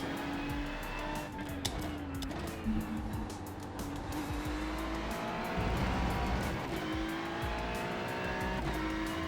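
A Ferrari 296 GT3 race car in a racing video game drives a track, its engine droning and rising through gears with brief tire squeals, loud and continuous.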